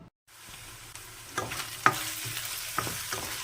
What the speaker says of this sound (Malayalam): വെളുത്തുള്ളി, ഇഞ്ചി, പച്ചമുളകും കൂടെ എണ്ണയ്ക്കകത്ത് താളിക്കുന്നു